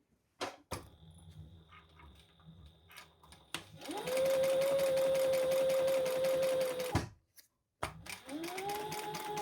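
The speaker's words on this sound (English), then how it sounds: "we're going to turn it over and we're going to stitch around this box" Sewing machine running steadily while stitching around a box on a bum bag, a sustained whirring run of about three seconds, then a short pause and a second stitching run starting up, preceded by quieter handling noise.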